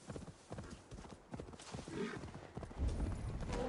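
Horse hooves galloping in Assassin's Creed Valhalla, a rapid close clip-clop rhythm that grows heavier toward the end, with a faint voice in the background.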